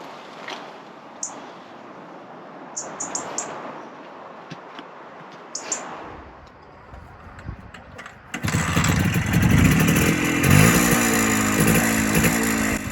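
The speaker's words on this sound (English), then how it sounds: "set the bike out for a ride" An MZ TS125 motorcycle engine catches after quiet outdoor ambience with faint birds, then idles loudly and steadily close by with a throaty, rumbling exhaust through a very long exhaust pipe.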